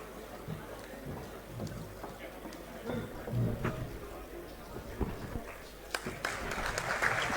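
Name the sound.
audience applause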